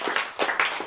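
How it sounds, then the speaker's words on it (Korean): Audience applause during a Korean church lecture on the flood of Noah, a burst of hand clapping in several quick swells over about a second, fairly close and without speech. "박수."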